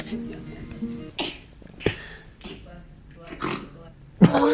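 A person sneezes several times in short bursts spread over a few seconds, fairly close and moderately loud, with breathy exhales and throat sounds between them.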